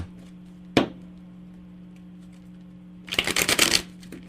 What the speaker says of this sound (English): I'm going to shuffle for you here.